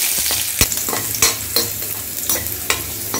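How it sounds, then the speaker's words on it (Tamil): Star anise and stone flower fry in hot oil, giving a close, steady sizzle broken by sharp crackles and pops, with a few stirring clinks against the pan. "ஸ்டார் பூவும் கல்பாசியும் நல்லா பொரியணும்"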